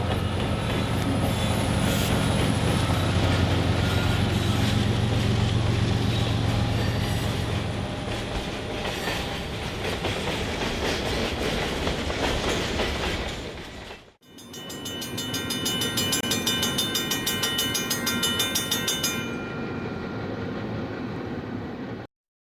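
CN freight train L540 rolling along light branchline rails on Michigan's Marquette Iron Range, a steady loud rumble of engine and wagons with squealing wheels and clattering, a brief dip, then continued rolling noise.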